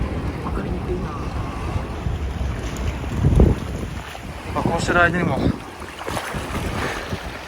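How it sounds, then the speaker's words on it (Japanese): Wind buffets the microphone as surf rushes and washes in nearby over a rising tide at the Mitsuishi rocks, Manazuru, Japan, with a brief spoken remark partway through. "波が押し寄せてきて、だんだん"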